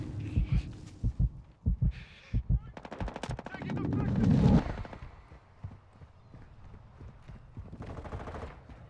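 Rapid automatic gunfire from Call of Duty: Modern Warfare II, bursts of shots and a loud sustained volley, mixed with game effects and brief shouted voices.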